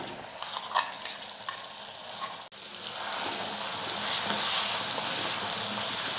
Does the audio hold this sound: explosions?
no